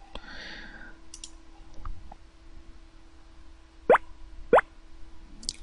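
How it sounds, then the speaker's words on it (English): Two sharp mouse clicks about half a second apart, aimed at a moving clown in a computer game, with a steady low hum and a few faint ticks in the background. "the harder it is to click on the clown"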